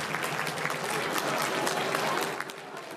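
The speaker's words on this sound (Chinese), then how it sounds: "在全场300多位侨胞鼓掌声中" More than 300 overseas Chinese guests at a Greater Seattle banquet welcoming Taiwan's representative to the United States applaud warmly, a steady wash of close, dense clapping that tapers off toward the end.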